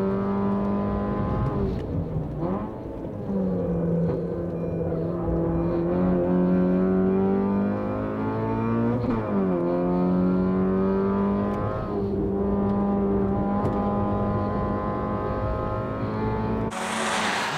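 A Honda Fit race car laps the Tsukuba circuit, its engine droning loud and close from inside the car, the pitch climbing through each gear and dropping at the shifts in a steady rhythm.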